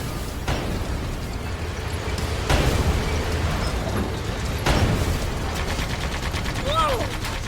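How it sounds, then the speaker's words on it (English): Homing missiles launching and blasting apart in the Sand Land video game, dense steady rumble broken by a few loud booming explosions over several seconds. "Whoa! Is that homing missiles? Looks like it's coming straight at us."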